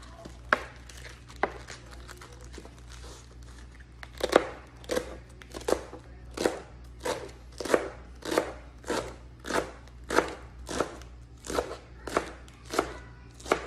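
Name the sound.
slicing rolled-up leaves with a knife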